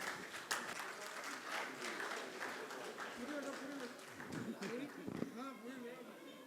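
A devotional gathering claps for honorees during a Jain question-and-answer session, faint scattered applause heard under ongoing speech and background voices.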